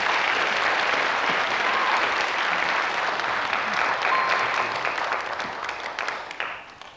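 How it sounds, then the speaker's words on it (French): Studio audience applause on a French quiz show, a full, even wash of clapping lasting several seconds before tapering off near the end. "Applaudissements pour vous."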